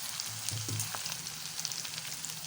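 Green chillies, onions, tempering seeds and curry leaves fry in hot oil for a brinjal curry, giving a soft, steady sizzle with faint crackles and a low background hum.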